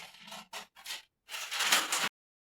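Scissors cutting out a paper palazzo trouser pattern, close and crisp: several short snips followed by one longer continuous cut, then silence.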